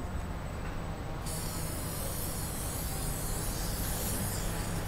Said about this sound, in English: I need to grease it with some non-stick spray.